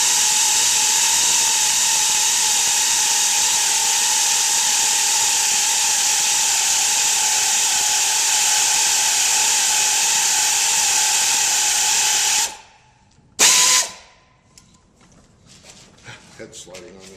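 A thread repair tool cuts new spark plug threads into the cylinder head of a 6.8-liter V10 Triton engine on a workbench, giving a steady, loud whirring drone that runs alone for about twelve seconds before stopping abruptly.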